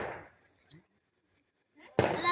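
A Diwali firecracker bursts once with a sharp, loud bang after a quiet pause, preceded by brief talk and faint background noise.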